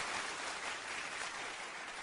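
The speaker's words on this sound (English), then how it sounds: "Applaud him." Applause sound effect played over a radio talk show, a steady broadband wash of clapping running evenly and fairly quietly throughout without a break.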